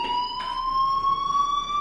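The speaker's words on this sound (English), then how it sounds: "Hey, do you hear that fire alarm?" Fire alarm in the video game Life is Strange sounds as a continuous, loud electronic tone that rises slowly in pitch, alone and unbroken throughout.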